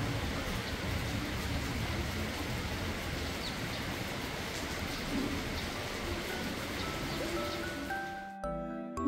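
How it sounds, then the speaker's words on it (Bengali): A heavy rain shower pours outside as a steady, broad wash of falling water, continuous until a brief drop near the end, with no voices. "বাইরে এক পশলা বেশ জোরেই বৃষ্টি হয়ে গেল কিন্তু"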